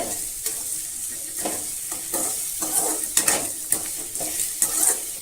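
Radish being stir-fried in a pan for spicy radish chutney: continuous sizzling with repeated scraping and stirring strokes of a spatula, close and fairly loud, with no talking.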